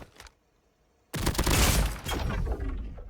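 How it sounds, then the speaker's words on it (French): Video game elimination effect for a Lachmann weapon: a short faint shot, a brief pause, then a sudden loud burst of rapid crackling gunfire with a booming tail, close and alone. "ce que j'aime trop, c'est le bruit des effets d'élimination"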